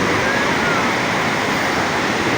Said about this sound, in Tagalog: Dito na kami sa Pidwaan Falls.